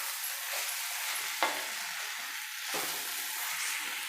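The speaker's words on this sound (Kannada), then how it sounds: "ಕಡಿಮೆ ಉರಿ ಇಟ್ಕೊಂಡು ಚೆನ್ನಾಗಿ ಫ್ರೈ ಮಾಡಬೇಕು" Bitter gourd and potato dry-roasting in a pan on a low flame, a bright continuous sizzle with a couple of brief stirring scrapes, close and steady, no voices.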